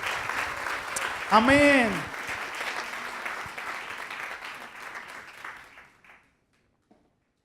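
A church congregation breaks into applause during a Spanish-language sermon, a swell of clapping with cheers that gradually fades to silence over about six seconds, with a voice saying a short word near the start.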